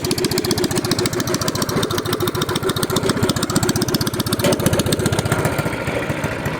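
A Predator 212 pit bike engine fitted with a Yamaha Majesty 400 muffler idles steadily, its rapid, even thumping pulse loud and close with no talk.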